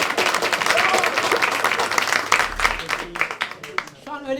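Audience applause after a Turkish stand-up comedy show, a dense crowd clapping steadily with some voices mixed in, tapering toward the end as a person speaks over it.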